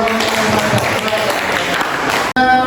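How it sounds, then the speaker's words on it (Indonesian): Applause for a group that has just finished a classroom presentation, a dense burst of clapping mixed with voices, cut off abruptly near the end and followed by a tonal hum. "Tepuk tangan lagi buat"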